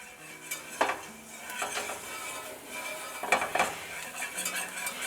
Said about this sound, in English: You want to cook this flour for about a minute or two.